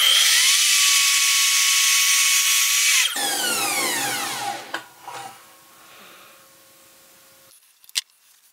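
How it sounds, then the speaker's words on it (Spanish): A power saw cuts pallet wood at a 30-degree angle, running loud and steady for about three seconds before spinning down with a falling whine, followed by a few faint knocks and a sharp click near the end. "Vamos a cortar a 30 grados también, ya sabéis, esto va todo a 30 grados, y vamos a cortar esto por aquí."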